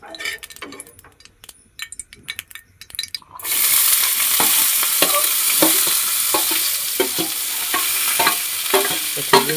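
Vegetables hit hot oil in a pan for Maggi noodles, a loud steady sizzle of frying that starts abruptly after quiet clinks and stirring, with scraping utensil strokes continuing through the frying.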